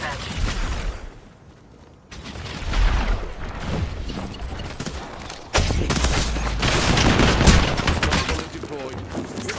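Rapid bursts of automatic gunfire and heavy shots crackle through an Apex Legends firefight, with a quiet lull near the start before loud, dense volleys resume, mixed with game sounds and voices.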